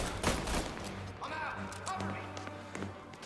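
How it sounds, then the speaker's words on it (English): Tommy gun bursts ring out in Mafia: Definitive Edition, a few short rattling volleys mixed with game noise and a talking voice over the top. "Oh, we got a Tommy gun for Tommy."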